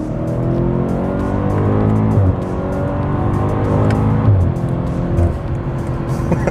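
A 2021 BMW M5 Competition accelerates hard onto a highway, its engine note climbing steadily through the gears with brief shift breaks around the two- and four-second marks, loud and close throughout with no talking.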